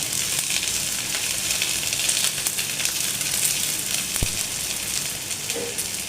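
Sliced onions and curry leaves fry in hot oil with a steady, close sizzling hiss that lasts throughout, marked by one brief sharp tap partway through.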